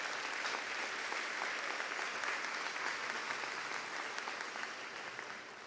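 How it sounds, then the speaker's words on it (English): A graduation audience at Bard High School Early College applauding student supporters, a broad, even wash of many clapping hands that fades slightly near the end. "So a round of applause for all of our"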